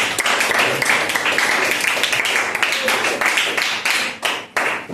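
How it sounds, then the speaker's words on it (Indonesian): A classroom full of students breaks into dense, steady applause for several seconds, a bright crowd-wide clapping that stays loud throughout before thinning near the end, with some voices mixed in. "Tepuk tangan untuk kita semua."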